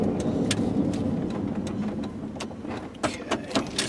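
Steady low rumble of a 1998 Chevy K1500 4x4 extended cab pickup driving, with scattered rattles and clunks from the rear end getting busier toward the end.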